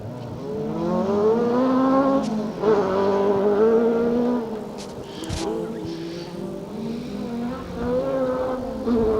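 An Opel Adam rally car runs a stage at the Plains Rally, its engine note rising and falling through revs as it accelerates, heard moderately close with a brief louder burst midway.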